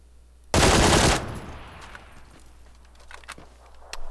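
A single loud, sharp video-game gunshot bursts out near the start, with a short ringing tail and faint clicks and rattles trailing after it in a battle-royale match.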